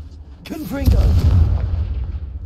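A Confringo fire spell bursts in Hogwarts Legacy with a deep, booming explosion that swells and rumbles away over a second or two, just after a short spoken word.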